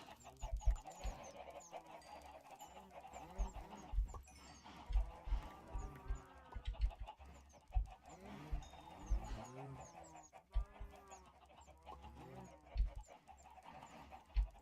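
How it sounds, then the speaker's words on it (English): Many chickens cluck in scattered, overlapping bursts at a low, distant level, accompanied by soft thuds and a few quiet voices. "Oh, that's a lot of chickens."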